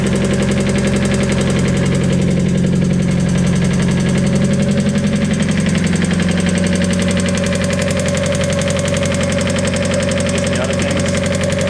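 Mazda Miata engine idling with a loud, rapid lifter tick, a steady mechanical clatter riding over a low, even drone, close and continuous with no talking.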